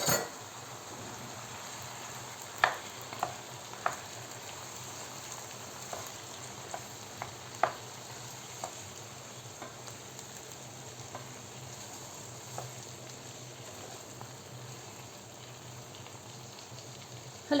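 Chopped, peeled tomatoes fry in oil in a pan for a bean dish, a steady soft sizzle broken by scattered clicks and scrapes of stirring, with no talking.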